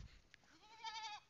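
A goat gives a single clear bleat on a farm as the herd is led to feeding, a wavering, nasal cry that starts softly after a brief thump and swells near and loud before cutting off.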